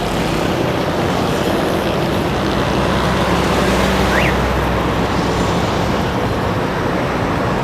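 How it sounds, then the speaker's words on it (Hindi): Traffic on a main road makes a loud, steady roar of passing vehicles and engine rumble that continues without a break, with no voices. "अभी मेन रोड पे खड़े हुए हैं, तो ट्रैफिक का शोर वगैरह देख सकते हैं आप।"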